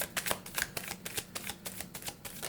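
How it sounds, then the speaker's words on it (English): Quick bursts of tarot cards riffling and slapping together, repeated in an uneven rhythm, close and fairly quiet with no voices. "I'm having a much easier time shuffling this deck"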